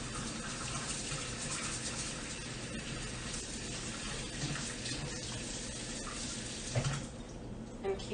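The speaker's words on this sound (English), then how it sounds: "I'm just gonna wash my spatula over here" Water runs steadily from a kitchen sink tap while a spatula is rinsed under it, a continuous close splashing hiss with a few brief clinks near the end.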